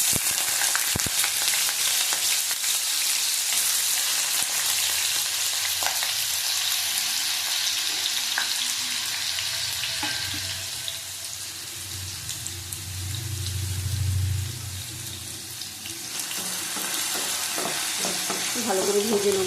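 Potatoes fry in oil in a pan for an egg chicken tarka, giving a steady, close sizzle throughout with occasional scrapes and stirring clicks, dipping slightly midway before returning to full hiss.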